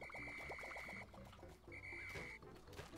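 Whistle blown in the video game Pikmin 4, two sustained steady high tones separated by a short gap, layered over busy game sounds and chirpy effects.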